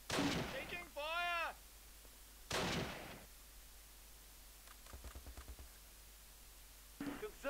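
Gunfire in the World War II strategy game Close Combat, The Longest Day: a few loud bursts and sharp reports spread across the stretch, with a rapid volley of shots near the end and speech mixed in between.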